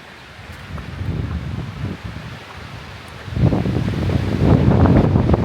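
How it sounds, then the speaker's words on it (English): Wind blowing outdoors on a mountain hike on Mount Belford and Oxford, buffeting the microphone and rushing through trees, rising into a stronger, louder gust partway through. "there's a big gust of wind"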